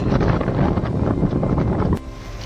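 Strong wind buffets the microphone in a continuous heavy roar, easing slightly after a brief click near the end.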